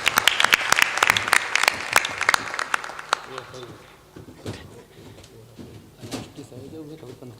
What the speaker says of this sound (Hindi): ताली बजाओ इनका जोरदार।